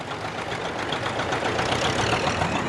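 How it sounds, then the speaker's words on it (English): A vintage two-cylinder diesel tractor, a 730, runs at a National Tractor Run in 2010, giving a steady, loud, continuous engine drone with no pauses and no voices. "Glorious sound that is, a two-cylinder diesel."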